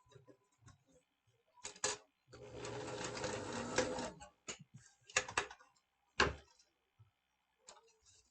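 A home sewing machine tacks a folded ribbon loop onto fabric for a DIY travel kit: one steady mechanical whirring run of about two seconds, close and clear. Scattered clicks and handling knocks come before and after it.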